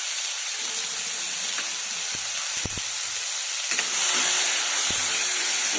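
Cumin, asafoetida and chopped onion hitting hot oil for Mumbai-style pav bhaji give a steady, close sizzle and hiss, with a few sharp crackles and pops scattered through it.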